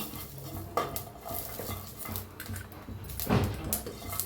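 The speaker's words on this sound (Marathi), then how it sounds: "आणि खोबरं ही भाजूया." Coconut and green chillies are roasted in a pan for a green masala egg curry, with spoon-on-pan scrapes and clinks and a light background crackle that grows busier near the end.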